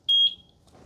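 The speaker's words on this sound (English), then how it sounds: "press the sync button until I hear the beep" A single short, high electronic beep from a eufy Security home base during syncing, clean and close, followed by quiet room tone.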